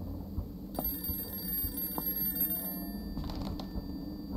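A telephone rings in a home kitchen, its repeated electronic bell trilling clearly over a low room hum, with brief bursts and gaps in the ringing pattern and no speech.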